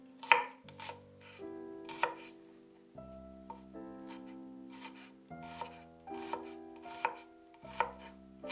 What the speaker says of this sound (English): Mince 2 green onions